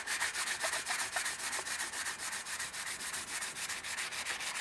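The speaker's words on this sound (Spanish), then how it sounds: "Ahora ya está listo para pasarle un poco de lija, una lija fina y listo" Fine sandpaper is rubbed by hand over plastic filler on a metal pergola, a close, loud, rhythmic scratching of quick back-and-forth strokes that runs steadily throughout without any talk.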